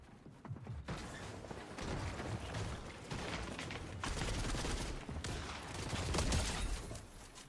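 SMG fire in a battle royale shooter crackles in dense rapid bursts amid mechanical clatter and ambient game noise, moderately loud with no talking.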